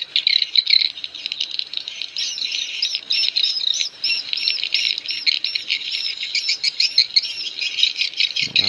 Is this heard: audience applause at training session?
no